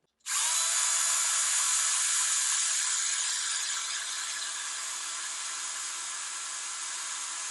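A Bosch PS31 12V compact cordless drill whines steadily at high speed, loud and close, running continuously without pause.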